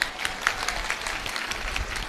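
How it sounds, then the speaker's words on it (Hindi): A crowd claps steadily at a religious gathering, moderately loud, with no voices standing out. "अब ताली बजाओ"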